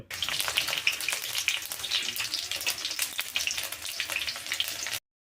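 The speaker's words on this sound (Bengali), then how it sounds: "প্রায় পঁচিশ গ্রামের মতন আমি সর্ষের তেল নিয়েছি আর দুটো কাঁচা লঙ্কা তেজপাতা আর কিছুটা দিয়ে দেবো পাঁচ ফোড়ন" Bay leaf, green chilli and five-spice frying in about 25 grams of hot mustard oil make a steady, close, crackling sizzle with dense popping that cuts off suddenly.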